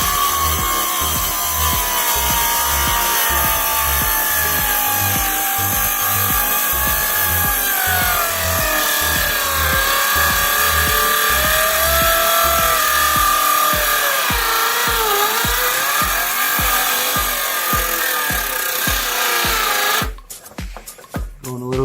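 Handsaw cutting through wood for a DIY rack holding eight 20-gallon fish tanks, a close, loud, steady back-and-forth rasp of rapid strokes that stops abruptly near the end.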